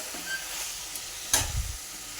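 Sliced brinjal pieces stir-fried in hot oil give a soft, steady sizzle, with a sharper hiss and a brief scrape of stirring near the end, fairly quiet throughout.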